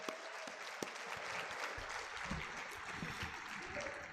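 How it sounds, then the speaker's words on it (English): A high school audience at a prom assembly in Pueblo County gives a team a round of applause, a continuous, fairly soft patter of many hands clapping that fills the whole stretch. "Let's give them a round of applause, please."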